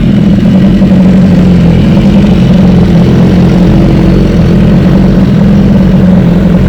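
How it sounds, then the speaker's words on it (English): 2018 BMW S1000RR and HP4 sport motorcycles warming up before a dyno run, heard as a loud, steady, close engine drone with no pauses and no talk. "I think those bikes have been sufficiently warmed. We're running for just a few moments now."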